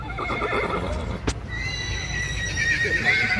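A mare neighs in a loud, high whinny partway through, standing out over a steady bed of outdoor crowd noise, with faint clip-clop of hooves nearby.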